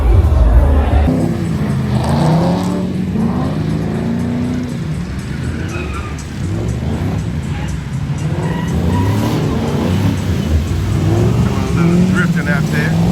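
Car drifting at a South African car meet, tyres squealing and engine roaring steadily and loud throughout, with people talking over the noise.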